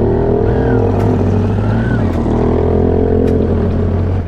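Lowered motorcycles pulling away, a loud, steady engine drone that swells and holds throughout, with a rising rev note near the start and brief passing sounds over the continuous rumble.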